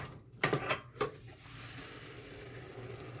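An egg-free vegan frittata flipped back into a pan, a few quick clattering knocks of pan and utensil up front followed by a soft, steady sizzle, close and quiet.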